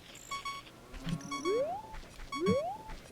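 Low-health beeping in the video game Zelda Ocarina of Time: a repeating electronic tone mixed in with rising chirps and other game sound effects, at moderate volume with no talking.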